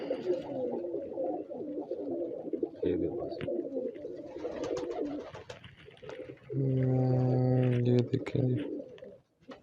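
Star pigeon hen cooing near and clear in a steady run of low calls, with other pigeons cooing and murmuring through the pen and someone speaking briefly over them.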